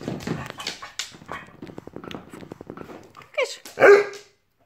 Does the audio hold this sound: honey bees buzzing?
no